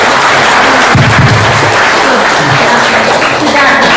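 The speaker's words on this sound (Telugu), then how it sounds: "చప్పట్లు కొట్టండి అమ్మగారికి ఒకసారి." An audience claps steadily through a meditation training gathering, a dense, continuous patter of many hands with a voice speaking over it.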